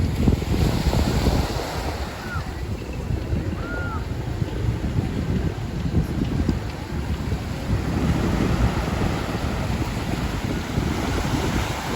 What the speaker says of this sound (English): this is the beginning of the Cinco de Diciembre beach area